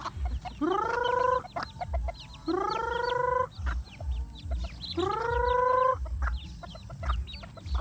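Chickens sharing a backyard pen with goats call loudly and close by, three long drawn-out cries about two seconds apart over a quiet farmyard background.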